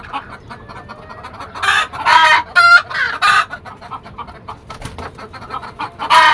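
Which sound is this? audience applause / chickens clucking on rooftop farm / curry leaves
chickens clucking on rooftop farm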